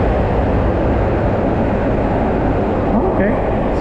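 Steady broadband rumble and rattle inside a Tze Chiang Express train running from Taipei to Hualien, loud and continuous throughout.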